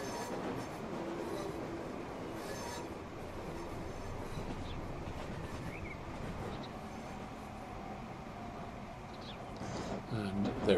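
A Metropolitan Line train from Transport Fever 2 rolls steadily along rails, curving on the final approach to Chesham station, with a continuous rumble and faint wheel noise under a speaking voice.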